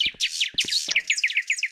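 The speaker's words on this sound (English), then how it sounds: "I hear birds." Birds chirp in the daytime scene of the FNAF video game, a quick, steady run of bright, high tweets that overlap and repeat clearly with no talking.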